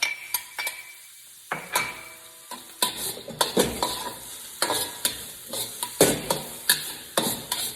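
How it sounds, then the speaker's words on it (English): Onions being stir-fried in hot oil in a wok for a quick chicken curry, with a steady sizzle under repeated scraping and clinking stirs of a utensil against the pan, close and fairly loud. "we're going to add our onions to the wok"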